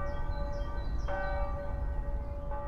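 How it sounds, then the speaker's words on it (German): Church bells ringing in Florence: sustained, layered tones with fresh strikes about a second in and again near the end, heard at moderate distance over a soft background hum. "Die Glocken läuten."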